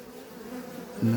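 A short, low, steady buzz of Ukrainian steppe honeybees at a hive frame in October, close and fairly quiet, with a slightly louder hum at the very end.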